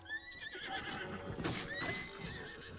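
A horse in Zelda: Breath of the Wild whinnies with a long, loud neigh, with clip-clop hoofbeats and game sounds around it.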